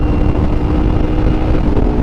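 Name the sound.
car engine cold start at night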